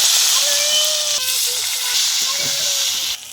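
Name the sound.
frying khichuri spices with cardamom, cinnamon, chilli, tomato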